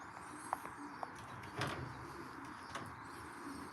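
Racing pigeons coo softly inside a loft, faint and distant over a quiet background, with a few small taps and knocks.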